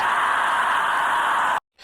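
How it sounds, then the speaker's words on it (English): Scream sample for heavy tearout music production, a loud, sustained, harsh noisy scream that cuts off abruptly, then a brief quieter burst. "So like there's a scream like this."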